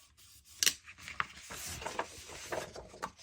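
Scissors trim the end of a striped paper scrap in a few quick, quiet snips and rustles, close and alone with no talking.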